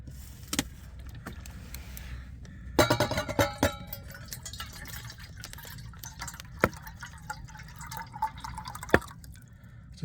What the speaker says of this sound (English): Let's take a teapot, and we're going to fill this up with water